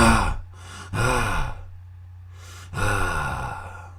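A voice imitates heavy breathing with three loud, drawn-out gasping inhales and sighing exhales close to the microphone, separated by short pauses.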